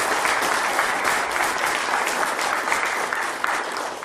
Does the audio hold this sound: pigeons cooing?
no